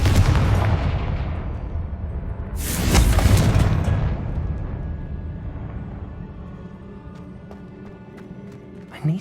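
A Confringo blasting spell goes off in Hogwarts Legacy with a loud burst and a long rumbling, crackling decay that fades over several seconds. A second smaller impact lands near the end.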